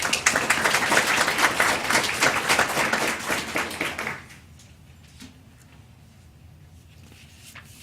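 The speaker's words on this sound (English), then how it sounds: "Let's give them a round of applause." An audience at a board of education meeting applauds for about four seconds, a dense steady clapping that then breaks off abruptly, leaving only a few scattered claps over quiet room tone.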